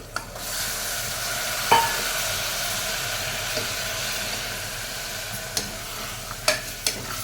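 Goat mince keema frying in a pan, a steady close sizzle with occasional scrapes and knocks as it is stirred, no talking.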